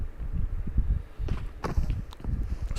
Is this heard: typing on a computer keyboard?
no